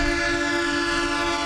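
A passenger train on a railroad line sounds a loud, sustained horn tone that holds steady for the whole moment with no voices.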